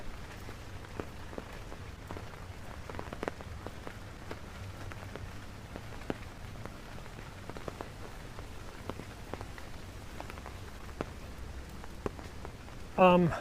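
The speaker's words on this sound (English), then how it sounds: "it's raining, if you like the sound of rain" Light, steady rain falling with occasional distinct drops tapping nearby, a soft continuous patter.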